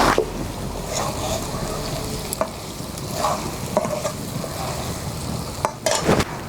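Stirring and sizzling in a pan as whole cauliflower goes into roast masala fried until the oil separates, a steady frying hiss broken by scraping strokes and a few louder clatters near the end.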